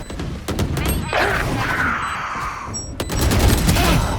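Rapid gunfire crackles through a round of the tactical shooter Valorant in a Premier match, with dense bursts and sharp shots across the clip, loud and close, alongside game sounds.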